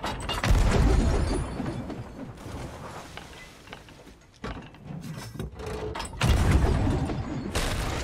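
Chain shot fired from a ship's cannon in a video game, striking an enemy deck: several loud booming hits with wooden knocks and clattering mechanical rattles, rising and falling over a few seconds.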